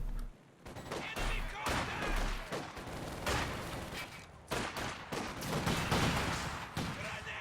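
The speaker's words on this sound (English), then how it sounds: "Incendiary grenade goes off, and that's actually double mortars for VonIvan." Incendiary grenade and mortar fire in the video game Company of Heroes 2, rapid bursts of gunfire and thumping blasts in quick irregular succession, dense and loud throughout.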